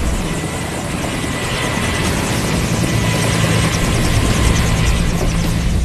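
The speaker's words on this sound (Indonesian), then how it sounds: "helikopter pengintai terlebih dahulu mengudara" A reconnaissance helicopter's rotor thumps steadily with a loud, continuous engine whine as it takes off, close by and holding a constant roar throughout.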